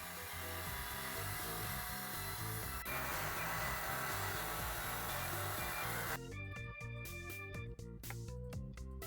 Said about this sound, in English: I'm cutting out 3 slices of the zebra wood about 1/4 inch thick